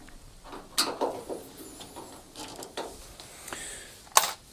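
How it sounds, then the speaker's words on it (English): Screws being undone on a washing machine control panel, heard as close squeaky creaks and scraping turns with a few sharp clicks of metal and plastic, fairly quiet with no talking. "lift out the control panel by undoing the screws that hold it in place"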